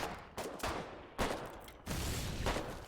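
Gunfire in the war game Foxhole during frontline fighting: a few loud, close bursts of shots roll one after another, each leaving a dense, rumbling tail.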